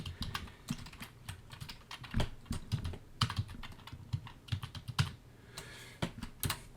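Keys clacking on a computer keyboard as a layer name is typed into a Photoshop sports template, a close, irregular run of quick taps and short bursts with brief pauses, no voices.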